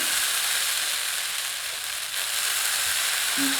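Adai dosa batter made with samba wheat rava sizzles loudly and steadily on an oiled pan, a dense continuous hiss with no talk over it.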